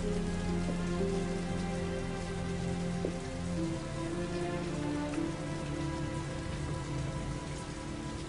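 Rain in the video game Heavy Rain, a steady close patter of drops on surfaces with a soft, even hiss throughout, no voices, and faint musical tones underneath.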